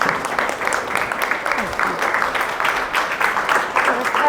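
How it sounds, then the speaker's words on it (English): At a welcome reception, an audience applauds to greet a speaker, producing steady, moderately loud clapping from a crowd with some chatter mixed in. "Can you please clap our hands and stand as she comes to speak?"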